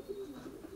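Racing pigeons coo softly, a brief low throaty burble, faint and close, with no talk over it.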